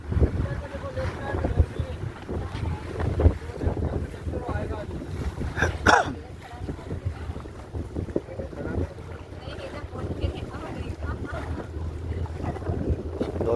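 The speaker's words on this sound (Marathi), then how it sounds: "इथे पण एक बोट आहे हे पण आलेली आहे" A boat motors over the open sea off Goa, its engine drone steady beneath strong wind noise and wave wash, with people talking over it throughout.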